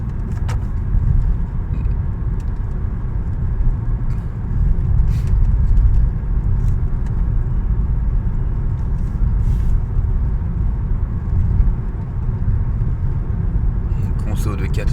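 Nissan Leaf 40 electric car cruising at about 70 km/h, a steady low rumble of road and tyre noise that stays loud and even throughout, with occasional brief bumps and a voice speaking over it.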